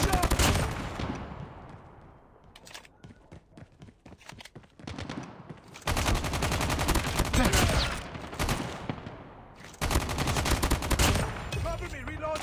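Rapid gunfire bursts from a Call of Duty multiplayer battle, loud and dense with bursts that fade and return, mixed with game effects and occasional voice callouts.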